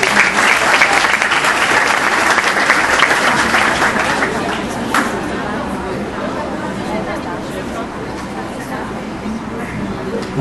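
An audience at a youth parliament session in Visconde do Rio Branco, Minas Gerais claps loudly, the dense applause fading to a lower level after about five seconds as chatter and murmuring voices rise.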